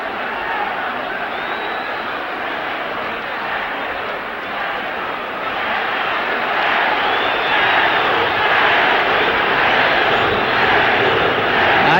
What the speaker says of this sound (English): I guess you can hear the crowd whooping it up.